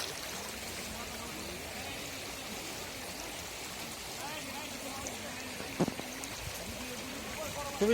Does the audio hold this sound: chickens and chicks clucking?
no